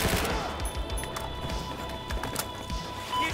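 Rapid automatic fire from a G18 pistol in Battlefield 4, a dense rattle of shots running through most of the stretch with scattered bursts, fairly loud over a busy battlefield background.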